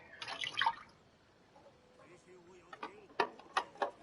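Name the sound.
rinsing something in the kitchen sink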